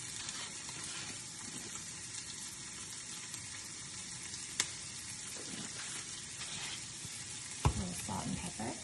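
Garlic hits a hot pan and sizzles in a soft, even crackle, with a couple of sharp clinks and a brief stirring clatter near the end.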